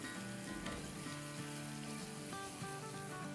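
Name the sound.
tandoori burger patties frying in a pan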